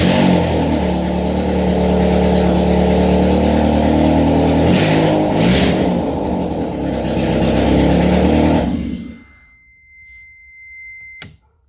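Converted Daihatsu Cuore engine runs loud and steady close by, revving up and down for about nine seconds before cutting off, with a short sharp click near the end.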